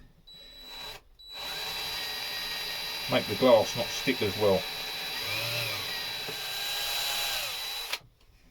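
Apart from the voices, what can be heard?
power drill drilling holes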